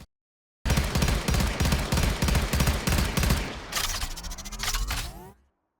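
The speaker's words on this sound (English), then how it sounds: "It shoots in bursts of 3 and is highly accurate" A Warframe archgun firing in three-round bursts: heavy, rhythmic gunfire with bursts repeating steadily for several seconds, loud and up close, ending in a ringing tail.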